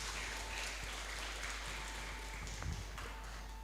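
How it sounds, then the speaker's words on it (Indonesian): Faint applause from an audience after a university lecture on artificial intelligence in chemistry, a soft, distant patter of clapping over a low steady hum, with a single louder bump near the end. "Tepuk tangan dong untuk kita."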